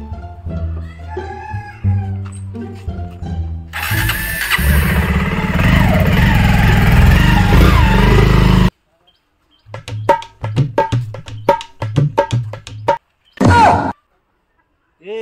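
A motorcycle engine runs loud and close, with a rough steady roar for about five seconds that then cuts out abruptly, surrounded by lively talk before and after.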